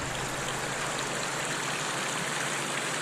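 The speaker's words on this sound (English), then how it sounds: "we're down here at the Glady River. The ford is two 50-yard sections, about 18 inches deep" Shallow river ford on the Glady River in West Virginia, about 18 inches deep, with water rushing steadily over boulders in a constant, broadband roar heard alone without voices.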